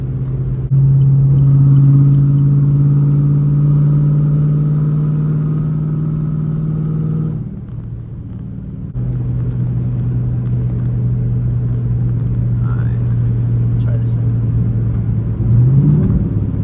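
A Chevy SS with a supercharged LSA engine cruises with a low, steady engine drone and road rumble. The engine note dips briefly in the middle, then returns to an even hum.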